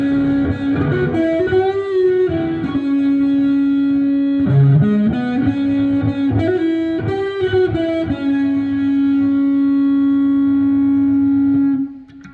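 A 2021 Gibson Les Paul Classic in Translucent Cherry on the bridge pickup, played through a Hughes and Kettner amp with heavy distortion, rings out a sustained riff of chugging chords and held notes, loud and alone, ending on a long decaying chord.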